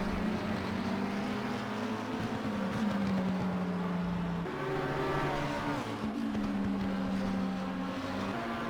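A race car engine in Assetto Corsa Competizione racing at Barcelona, near a Lamborghini, drones steadily and loudly, its pitch rising through each gear and then dropping at the shifts, with no talk over it.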